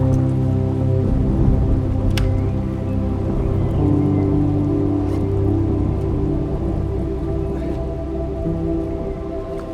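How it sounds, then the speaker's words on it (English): Light rain falling through trees on a mountain trail in August, a steady, close patter of drops on leaves with occasional louder drips, continuous and with no talking. "First bit of rain."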